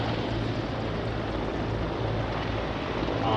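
Mi-17 and Mi-24 military helicopters flying at an air show in Hradec Králové, a steady loud rotor and engine roar that holds evenly throughout with no talk.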